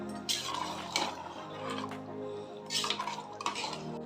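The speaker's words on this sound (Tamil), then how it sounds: "இப்போ இதை நல்லா கிளறி விடுவோம்" A spoon stirs a thick mutton biryani mixture with added yogurt in a metal pot, giving bursts of scraping and clinking that come up twice, close and moderately loud, with no talk.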